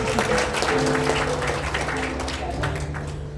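Applause from a church revival audience, steady and sustained for a few seconds, with a held tone and some voices mixed underneath.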